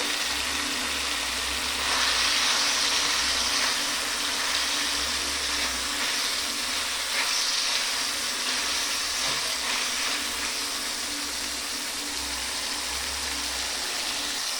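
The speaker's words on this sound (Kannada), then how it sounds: "ಚಿಕನ್ ಬೇಯ್ತಾ ಇದೆ." Chicken for dhaba-style chicken sukka cooks in a pot and gives off a continuous, even hiss of steam and bubbling. The noise stays steady and fairly loud throughout, with no talk over it.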